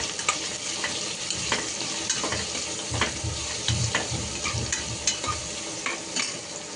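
Curry leaves crackle in hot oil in a pan for a simple pea and potato pulao, a loud, continuous sizzle with repeated stirring scrapes close by.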